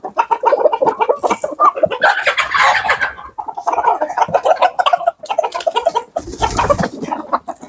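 Black hens of the Australorp breed cluck and chatter close by in an Andijan yard, with overlapping calls from several birds and brief louder squawks.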